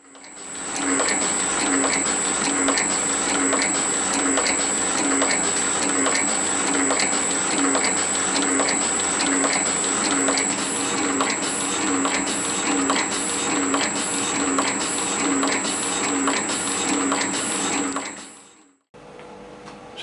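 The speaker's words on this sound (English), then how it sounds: "we're going to machine the opposite face, which is this one, which should machine this both square to that face and also parallel to this" A metal shaper machines the opposite face of a part with a steady, loud, rhythmic cutting and clattering stroke and a constant whine. It runs continuously for about eighteen seconds, then stops abruptly.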